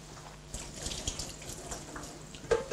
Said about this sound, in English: Wash my hands because it's a bit fishy.